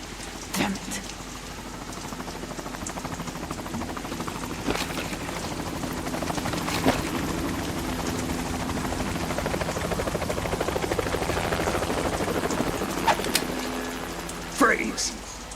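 A steady helicopter drone in a video game holds under the whole stretch, with occasional sharp clicks and thumps over it and voices speaking throughout.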